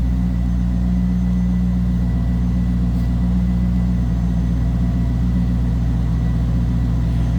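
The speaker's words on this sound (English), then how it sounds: "Nice deep throaty exhaust note" A 1997 Chevrolet Corvette Coupe idles steadily, a deep, throaty, low rumbling exhaust note holding even throughout with no voices.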